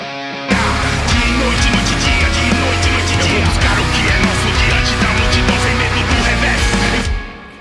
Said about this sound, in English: we also got some additional lead guitars with basically the main rhythm tone just a touch darker